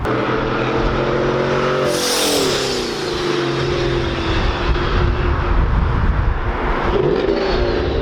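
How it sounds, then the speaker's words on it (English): A Procharged GMC Sierra pickup with a two-step makes a loud, close flyby, its engine roaring and sweeping past with a shifting pitch and a sharp blow-off valve whoosh, then a sustained heavy rumble. "that blow-off valve sounds so nice. It's so freaking loud."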